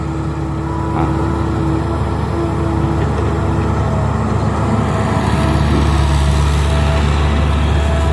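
A Japanese-built Komatsu PC120 excavator engine runs steadily at low throttle, a continuous broadband rumble with a faint tonal whine. It stays constant and fairly loud for the whole span, and no voices are heard.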